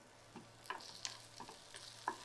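Onions with masala and salt are stirred in a pan, giving a few quiet, separate scrapes and soft clicks of a utensil over a faint low hum.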